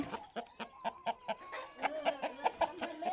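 A young rooster under a year old, kept for sale as a fighting bird, clucks in a quick run of sharp, close calls, about a dozen short bursts coming faster toward the end.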